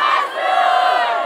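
A concert crowd in Vaslui, Romania, shouts back loudly in unison in answer to a singer, a dense roaring mass of voices sustained for just over a second.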